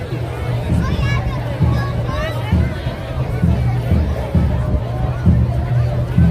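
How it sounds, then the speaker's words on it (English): A street crowd in Bay Ridge, Brooklyn, following the giant Little Amal puppet fills the air with steady, close hubbub of many voices and children's chatter, with nearby talk layered on top. "That's a crowd following her."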